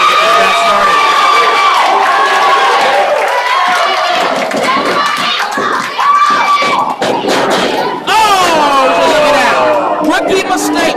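A loud wrestling crowd at an independent show roars and cheers from ring-side, with shouts, thuds and a brief dip before the noise surges again; voices are heard throughout.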